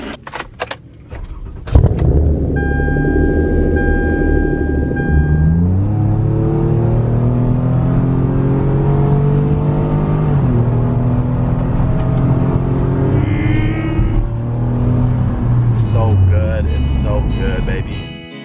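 A minivan fitted with an aftermarket exhaust starts and revs up, its engine note rising and falling through several throttle blips, loud and close, after a brief jingle of keys.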